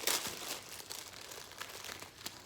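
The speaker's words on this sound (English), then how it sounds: "you're gonna open up the ramen package" Plastic ramen noodle package crinkling and tearing open up close, a short burst of sharp rustling followed by steady crackling handling noise.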